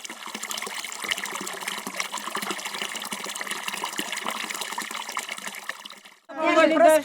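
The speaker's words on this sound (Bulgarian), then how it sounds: "Пръскат се с вода за здраве" Water being sprinkled and splashed as people douse each other in a ritual for health, a continuous soft patter and trickle that ends with a brief burst of voices.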